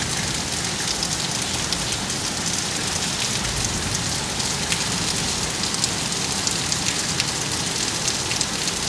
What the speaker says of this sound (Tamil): அப்படி ஒரு மழை கொட்டி தீத்து ஆறா ஓடிச்சு தண்ணி